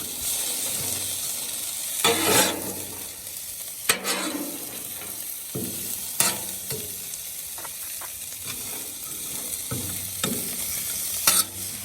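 Bacon and hash browns frying in butter in a pan, a steady close sizzle broken by several sharp clattering stirs and scrapes spread through the stretch, with no talking.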